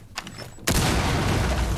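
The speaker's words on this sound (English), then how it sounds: "Oh, big explosions." Big explosions in Rainbow Six Siege on PS4 hit as one sudden loud blast that rolls into a sustained roar of debris and rumble after a quiet start.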